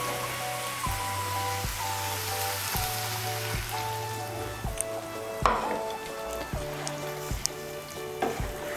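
Hot water poured into a pan of sautéed cabbage for an egg and cabbage curry, with a steady hiss and sizzle plus rhythmic stirring scrapes and a few clinks, moderately loud, no voices.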